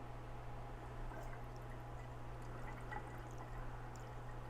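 Homemade mead, brewed with apple slices, is poured from one vessel into another instead of siphoned, giving a faint, steady trickle of liquid with a few small drips over a low background hum.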